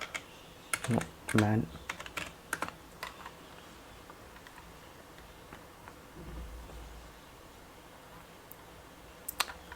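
Faint bursts of typing on a computer keyboard, a quick cluster of clicks followed by scattered single keystrokes in a quiet room, with someone speaking briefly.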